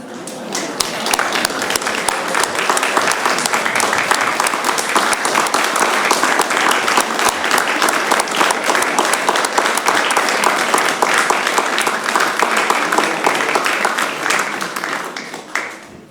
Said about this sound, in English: Would the children like to stand up and clap their parents?